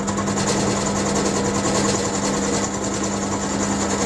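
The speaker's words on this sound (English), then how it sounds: "and then mill off the front piece" A milling machine cuts a camera shutter retaining ring tool, giving a steady, loud mechanical whine with a constant hum that runs unbroken and close for the whole stretch.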